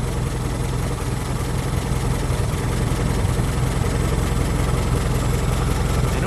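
A Ford Model T engine idles steadily with a low, even rumble and a continuous mechanical hum that holds without change, close by and alone.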